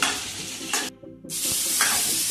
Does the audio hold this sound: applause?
no